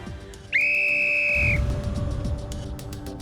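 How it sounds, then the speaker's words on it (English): A single sharp whistle blast signals the start of a footrace among models, holding about a second before cutting off, followed by a burst of rustling movement and running. "I run and I hear the whistle go"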